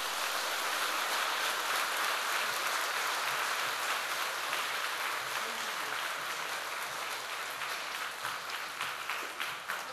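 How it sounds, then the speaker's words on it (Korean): A church congregation applauds steadily for the whole stretch, a dense, sustained patter of many hands clapping together. "우리 박수로 맞겠습니다."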